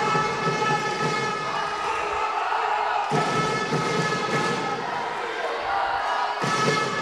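Fans cheering for the Žalec women's handball team at an indoor match against Celje, a loud sustained crowd roar with chanting that surges and dips in waves.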